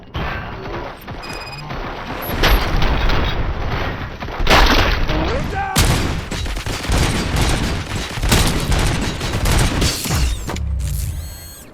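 Continuous heavy gunfire and crashing impacts from a firefight in the video game Robocop Rogue City, loud and sustained across the whole stretch with bursts of explosions and debris.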